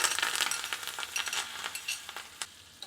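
Chopped green chillies and curry leaves crackle faintly in hot tempering oil for buttermilk rasam, with brisk irregular pops and light metallic clinks from stirring over a soft sizzle.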